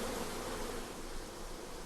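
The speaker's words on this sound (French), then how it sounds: "L'intérieur d'un essaim d'abeilles" A dense, steady hum of a huge honeybee swarm, more than 100,000 bees covering a man's face, head and body, drones continuously at low volume with no voices.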